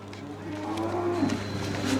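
Cows moo in a cattle shed, drawn-out low calls rising over a steady hum, with a few overlapping calls from several animals close by.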